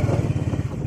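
A motorcycle engine runs steadily while the bike is ridden along a road to the Sailing Meadows in Khaplu, with a loud, close, continuous low drone and no voices.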